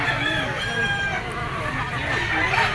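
A rooster crows at a busy outdoor pet and poultry market, its call cutting through constant crowd murmur and background bustle.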